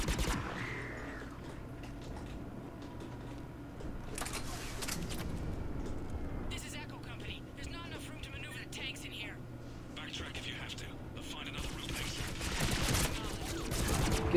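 Gunfire from a weapon in Mass Effect 3 combat, steady bursts of shots crackling under a constant game background hum, with a player talking over the action.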